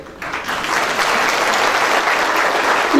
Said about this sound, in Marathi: मी पाहतोय ठराविक टाळ्या 2-4 वाजतात.